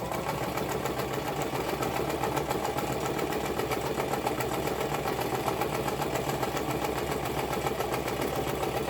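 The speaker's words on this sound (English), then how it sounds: "And I'm just sewing right along." A sewing machine hums steadily and stitches continuously with a fast, even mechanical rhythm. The sound is close and unbroken, with no pauses.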